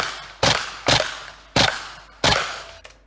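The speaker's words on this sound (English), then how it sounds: "I only hear 1 shot here." Gunfire from a Russian first-person shooter game rings out as four sharp, loud shots, each with a short decaying tail, spaced roughly half a second apart.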